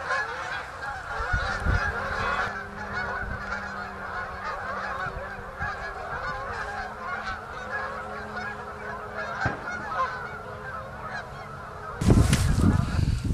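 A flock of Canada geese by the middle River Severn in November keeps up a continuous chorus of honking nearby, with a steady low hum beneath and a loud rustle near the end.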